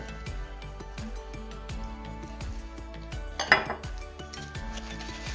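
Steady hand whisking of cheesecake batter with sugar in a bowl, with repeated light scraping and clinking of a utensil against the sides and a brief louder clatter midway.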